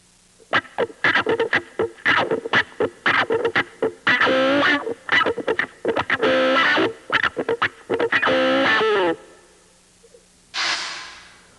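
Electric guitar through an auto-wah pedal, a busy run of plucked notes and chords with a sweeping, vowel-like filter, loud and close, then a pause and one last sustained strum.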